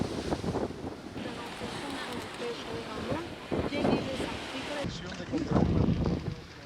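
Surf washes onto the sandy beach at Cayo Coco, Cuba, during a barefoot seaside wedding, steady waves mixed with wind buffeting the microphone, while a voice speaks over the scene.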